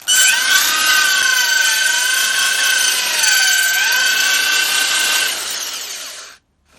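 A wooden wheel being smoothed with 150-grit sandpaper gives a loud, continuous whirring rasp with a steady high whine, running for about five seconds before cutting off abruptly.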